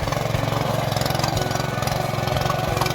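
A small farm tiller engine runs in hillside fields with a loud, steady, rapid pulsing chug close by that stays constant throughout, with no voices over it.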